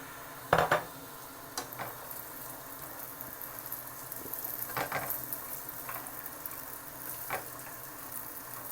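Raisins and coconut being fried with nuts in a pan for semolina halwa give a steady, close sizzle, with a sharp clatter near the start and a few light scrapes and taps of a utensil against the pan.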